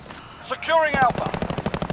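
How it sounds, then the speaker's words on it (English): Rapid automatic gunfire in the video game Modern Warfare, a fast rattling burst of shots after a brief voice, fairly loud and close. "Constantly getting shot from behind."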